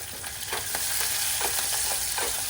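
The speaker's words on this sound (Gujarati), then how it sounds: "સારી રીતે મિક્સ કરીને થોડું એવું બ્રાઉન થાય ત્યાં સુધી સાતળી લઈશું." Continuous sizzling of a spice paste sautéing in a pan, with soft scraping stirs every half second or so, no voices.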